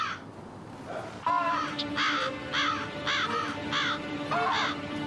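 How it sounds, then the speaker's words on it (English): A crow caws repeatedly, sounding close and loud in a steady series of harsh calls over a faint background hum. No voices are heard. "Wait, that's a real bird?"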